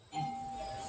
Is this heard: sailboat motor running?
no